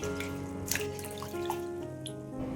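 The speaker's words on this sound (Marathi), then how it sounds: "ही मेथी चांगली खळखळून धुवून घ्यायची आहे" Fenugreek leaves being washed by hand in water, rinsed repeatedly to remove dust: a close, steady swish and slosh of water with a few drips and splashes.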